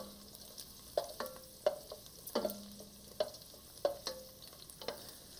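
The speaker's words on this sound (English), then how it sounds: "You can see our garlic is starting to get golden brown." Garlic frying in a pot as the base for a spicy soup, with a steady low sizzle punctuated by repeated sharp clinks and scrapes of a utensil stirring against the pot at irregular intervals, close and moderately loud.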